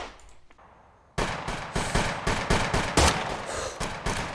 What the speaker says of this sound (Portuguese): Muito bem, vamos dar uns tirinhos com a cara.